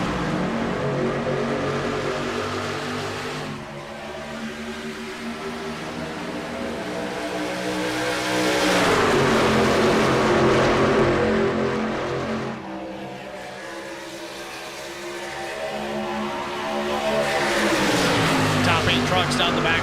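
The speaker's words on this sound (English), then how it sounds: "Trucks down the back straightaway, all jockeying for position." Racing trucks accelerating at a race restart in Las Vegas, engines roaring steadily and swelling in waves as they pass, with an announcer talking over them throughout.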